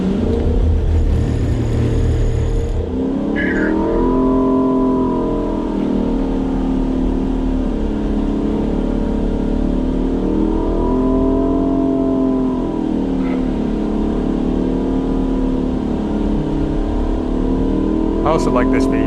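A car engine heard from inside the cabin during a sliding test drive on a driving-control research vehicle, steady loud drone with rising and falling pitch sweeps as the engine revs up and down.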